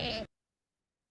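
A goat in a negative emotional state gives one short, quavering bleat lasting about a quarter second, heard up close and alone, followed by silence.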